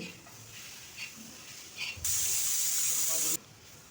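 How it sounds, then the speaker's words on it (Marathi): Chopped tomato tipped into a hot pan to roast gives a sudden, strong hiss that lasts just over a second. Before it, the kitchen is quiet apart from a few small knocks. "जो आपण कापून घेतलेला टोमॅटो आहे ते इथे टाकून घ्यायचे आणि यालाही चांगले नरम होईपर्यंत आपल्याला भाजून घ्यायचं आहे"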